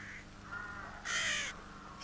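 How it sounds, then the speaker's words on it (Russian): Hooded crow calling in two or three harsh caws, the loudest in the middle, fairly close and clear over a faint hiss of background noise with no talking. "Ворона."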